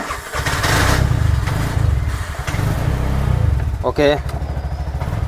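A Bajaj Maxima CNG auto rickshaw engine cranks and catches, then runs with a steady low rumble close by, while a voice speaks briefly over it.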